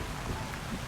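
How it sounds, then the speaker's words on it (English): Steady rain falling, a dense even hiss of drops filling the whole moment without pause, moderately loud and close, with no voices or other distinct sounds. "His words mix with the sound of rain."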